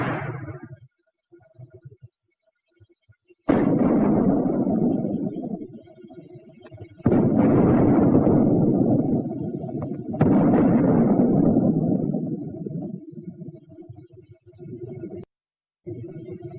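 Mortar firing white phosphorus smoke shells, a series of heavy low booms followed by long rumbling roars, loud and sustained, separated by brief gaps of near silence.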